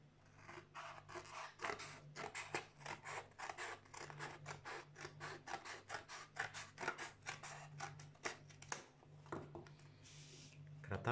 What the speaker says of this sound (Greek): Στη συνέχεια παίρνω το δεύτερο πιάτο και το κόβω στη μέση.